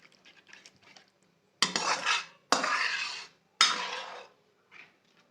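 A spoon scrapes and clanks against a pan while yogurt is stirred for black pepper chicken, a few light taps followed by three long, loud scraping strokes and a final soft knock.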